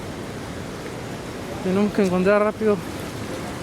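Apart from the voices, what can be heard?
heavy rain while walking near Machu Picchu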